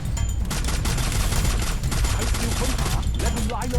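Rapid bursts of automatic gunfire crackle continuously in a Douluo Dalu themed shooter game, loud and dense with overlapping shots throughout.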